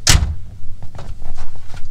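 A 1979 Ford Mustang coupe door opens with a sharp click and thump of the latch, followed by faint rattles and light handling noises close by.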